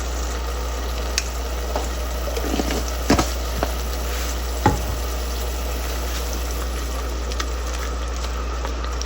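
Onion with ginger-garlic paste and a little water fries in a pan with a loud, steady hiss and bubbling under a constant low hum. A few soft knocks of stirring break through.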